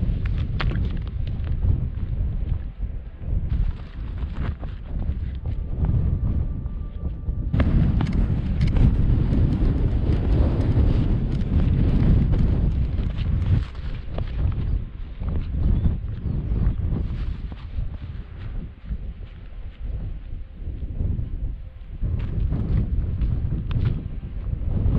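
Strong wind buffets the microphone on top of Pendle Hill on a bright day, a loud continuous rumbling roar that swells and eases in gusts for the whole stretch, with no talking.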